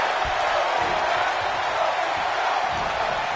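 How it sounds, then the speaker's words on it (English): Arena crowd in the WWE 2K26 wrestling game, a loud, continuous roar of cheering fans with scattered whoops, constant throughout with no gaps. "Just listen to this crowd. Every one of them is on their feet."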